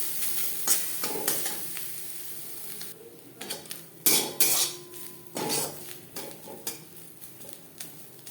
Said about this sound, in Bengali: তিন চার মিনিট লো টু মিডিয়াম ফ্লেমে নারকেল ভেজে নেওয়ার পর